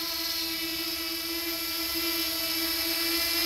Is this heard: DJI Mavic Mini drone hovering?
yes